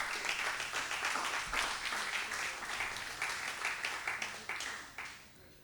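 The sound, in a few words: audience applause at a memorial lecture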